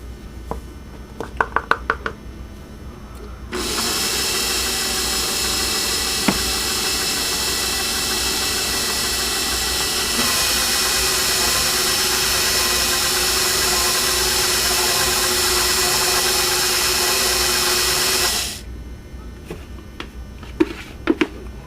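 Electric stand mixer beating flour into thick double chocolate cookie dough, a loud steady motor whir running about fifteen seconds, slightly shifting pitch midway, with clinks and handling noises before and after.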